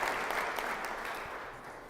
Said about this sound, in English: Let's give a round of applause for the children who are in this chamber.